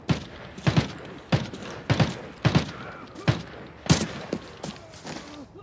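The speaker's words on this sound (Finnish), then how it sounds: "Motellis kuuluu laukauksiin." Gunfire at a motel in the video game Arena Breakout Infinite: about eight sharp, loud shots at irregular intervals, some in quick pairs, with the last few growing fainter and more distant.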